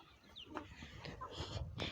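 Chickens cluck in short bursts with a few higher, chirpy calls mixed in, close by against a light barnyard background.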